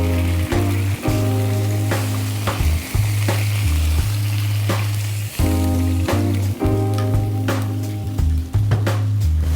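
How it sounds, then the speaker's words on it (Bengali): Water poured into a hot pan of egg curry sauce with green chilies sizzles loudly and steadily, broken by repeated clinks and stirring knocks. "এবার আমি পানি দিব 4 কাপ পরিমাণ।"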